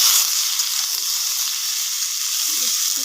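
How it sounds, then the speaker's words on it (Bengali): Boiled jackfruit and potato frying together in a pan, a loud continuous close sizzle and hiss with a few faint stirring sounds. "কাঁঠাল আর আলুটা একসাথে একটুখানি টানিয়ে নিচ্ছি।"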